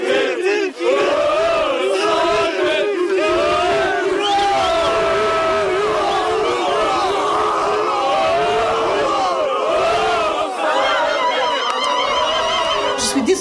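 A crowd of neighbours in an Algerian neighbourhood chanting and cheering for a footballer, loud continuous massed voices with rising shouts and whoops, close and dense throughout.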